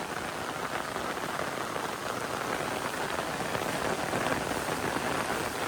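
Steady rain falls in the Konkan countryside, a dense, even patter on surfaces that carries on without a break and with no one speaking.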